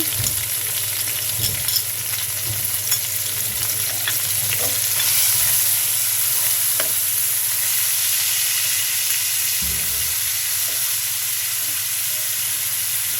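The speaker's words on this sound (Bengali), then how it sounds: "এখন পেঁয়াজ বাটা দিয়ে দিচ্ছি।" Onion paste frying in a pan for rohu fish curry, a continuous close sizzle broken by occasional stirring scrapes and clanks, with no voices.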